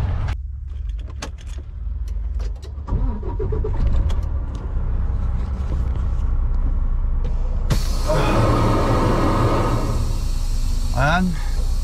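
A semi truck inches forward in a queue at the Canadian border, its diesel engine rumbling low. Partway through, a sharp hiss and brake squeal cut in close by.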